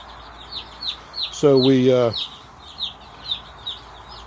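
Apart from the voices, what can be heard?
chickens clucking in brooder house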